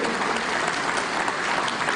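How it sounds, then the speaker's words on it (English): Sustained applause from a crowd at an engineering association event in Nigeria, a dense, steady wash of clapping with no pauses. "please give his wife a resounding applause"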